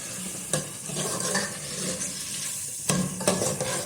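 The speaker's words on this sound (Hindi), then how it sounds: "हरी मिर्चें इसको छील के अभी थोड़ा सा इसको भून लो" Green chillies frying in a pan over a low gas flame, a continuous sizzle broken by a few sharp clinks and scrapes of stirring, close and alone.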